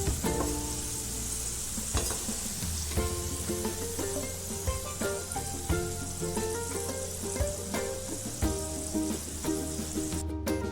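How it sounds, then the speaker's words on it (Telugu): Potato pieces deep-frying in hot oil for Potato 65: a dense, continuous close sizzle broken by frequent clicks and scrapes of stirring. "ఒక 10 నిమిషాలు ఇవి గోల్డెన్ కలర్లో మారేంత వరకు ఫ్రై చేసుకుందాం."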